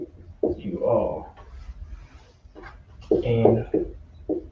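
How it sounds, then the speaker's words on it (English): A dog in a room makes a few short whimpering, grumbling vocal bursts indoors, close and moderately loud between quieter pauses. "Don't mind that noise, that's just the dog."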